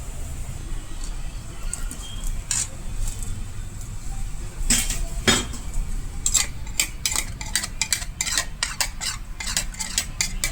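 Gulab jamun dough balls fry in hot oil with a steady low hiss, broken by sharp metallic clinks and scrapes of a spoon stirring in the pan, growing busier toward the end.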